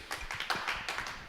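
A small audience gives faint, brief applause for a guest arriving at a French-language podcast recording, a scattered patter of hand claps.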